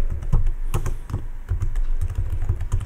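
Fast, close keystrokes tap out a new password on a computer keyboard in an irregular burst of light clicks with no voices.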